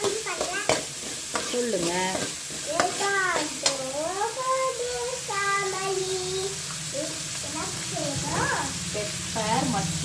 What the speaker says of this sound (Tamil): 3 ஆனியன் போட்டு நல்லா வதக்கிடுங்க.